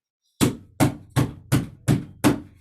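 A hammer repeatedly smashes a tennis ball frozen in liquid nitrogen at a science show, six sharp, loud cracking blows in a fast, even rhythm with no voices.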